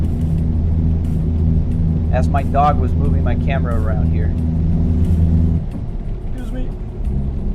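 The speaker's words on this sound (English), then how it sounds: "I'm playing American Truck Simulator." A truck engine in American Truck Simulator drones steadily at a low, even pitch throughout, with someone talking over it partway through.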